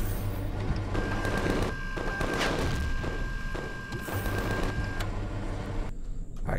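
Automated turrets fire continuously in the space-survival game Empyrion Galactic Survival: a dense, loud, steady barrage of rapid gunfire and thumping impacts with no pauses.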